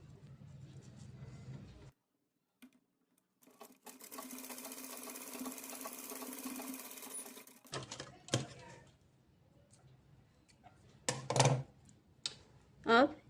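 Sewing machine stitching a designer dori pendant (tasseled cord), a steady run of rapid mechanical whirring for several seconds, framed by brief handling clatters and a short pause before it starts.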